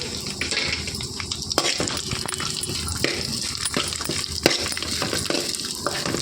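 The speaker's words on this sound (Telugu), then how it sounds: "ఒక కనాయి పెట్టేసుకొని అందులోకి కొద్దిగా నెయ్యి వేసుకోవాలండి ఎండి కొబ్బరి వేసేసుకొని వేయించుకోవాలి" Dried coconut roasting in ghee in a kadai, a steady close sizzle with frequent scraping and stirring strokes from a spoon, continuous and fairly loud with no talk.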